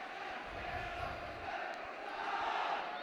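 A football stadium crowd at a Dundee First Division match roars steadily after Dundee win a corner, a dense wash of cheering and shouting heard at a distance, fairly faint.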